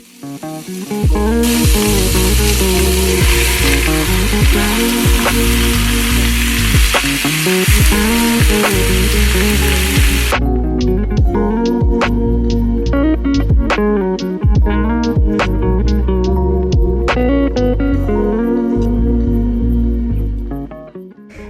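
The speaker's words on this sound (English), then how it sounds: "Heat up the pan with some oil and add your beef chuck." Beef chuck, about 3.5 pounds, sears in hot oil in a pan, a loud continuous sizzle and crackle with repeated sharp clatters of meat and utensil against the pan, close and without talk.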